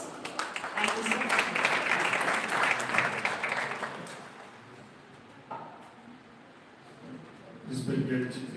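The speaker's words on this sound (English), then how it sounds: "May I request a big round of applause?" A conference audience at Phadtare Knowledge City applauds the education chairman: a few seconds of lively clapping that fades away, followed by quieter talking and a brief return of sound.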